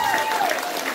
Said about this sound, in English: give me a bigger round of applause than that